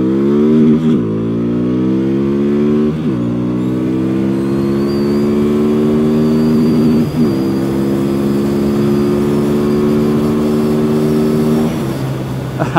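A QJMOTOR SRV300S motorcycle accelerates hard through the gears up to fourth, its engine note rising in repeated sweeps with brief dips at each shift, loud and close throughout.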